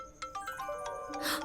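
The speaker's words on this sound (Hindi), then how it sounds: "मम्मी का कॉल आ रहा है।" A phone ringtone plays a short electronic melody of bright tones, fairly quiet and heard on its own.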